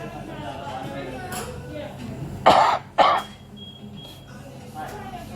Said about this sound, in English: Got a bad cough. I can't get rid of it.